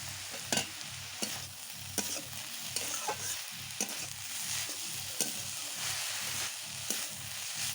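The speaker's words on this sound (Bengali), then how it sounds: "শাক ভাজা প্রায় হয়ে এসছে।" Greens frying in a pan sizzle steadily, with a spatula stirring and scraping at intervals and a few sharp clinks against the pan.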